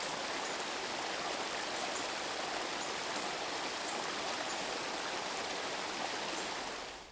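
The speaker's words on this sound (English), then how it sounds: "The falls are fed by Station Creek, which flows down from Station Mountain and drops into a narrow valley below." A waterfall fed by Station Creek, flowing down from Station Mountain into a narrow valley, rushes as a dense, even hiss of falling water, steady and unbroken from start to finish.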